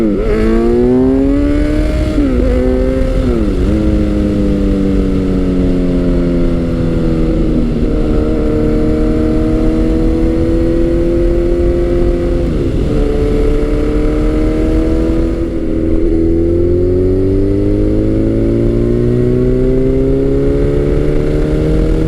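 Kawasaki Z900 motorcycle with a 948cc engine accelerating hard through several gears, a loud, close engine note climbing in pitch with brief dips at each shift, heard alone without talk.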